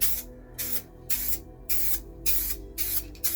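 Short bursts of aerosol black paint sprayed from a can onto a London black cab's rear bumper, five or six close hissing blasts separated by brief pauses.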